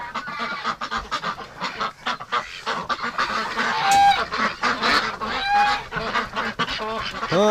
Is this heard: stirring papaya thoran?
no